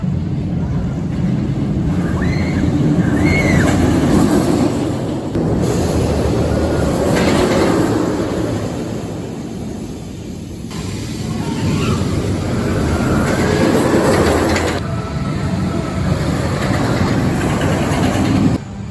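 The Air Force One roller coaster at Fun Spot Atlanta gives a loud, continuous rattling rumble with clattering wheels and swells of wind, with riders' voices faintly mixed in.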